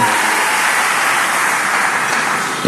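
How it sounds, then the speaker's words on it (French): Church congregation applauding and cheering in acclaim during a service, a steady dense wash of clapping sustained at full volume throughout, with no break or voice standing out. "Nous acclamons vraiment le Seigneur."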